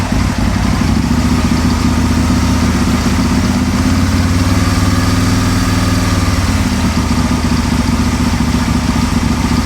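Aprilia motorcycle engine held at steady, slightly fluctuating revs during ECU fuel tuning, a loud continuous close-up drone with no break and no voices.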